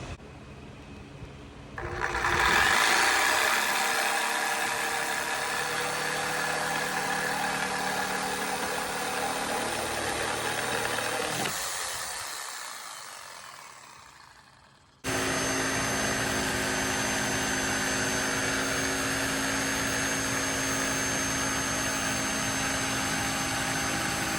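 A power saw cuts through 1-inch-thick wood for a kid's chair, running loud and steady as a motor whine for several seconds, then winding down before a second continuous machine drone takes over.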